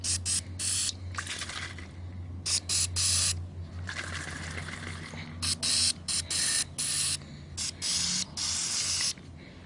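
A degreaser spray bottle spritzing onto Nissan 350Z engine parts and their gunked-up filters, with loud, sharp hissing squirts repeated in short bursts separated by brief pauses.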